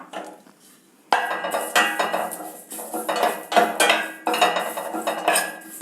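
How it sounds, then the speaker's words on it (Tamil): Curry leaves are dry roasted in a metal pan. After a near-silent start, loud clattering and scraping from the stirring utensil against the pan come in bursts. "இப்போ அடுத்து கருவேப்பிலையை போட்டுறேன். இதே ட்ரை ரோஸ்ட் தான் பண்ணுறோம்."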